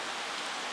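Steady rain falls without pause, a dense even hiss of drops on a surface, close and moderately loud with no voices over it.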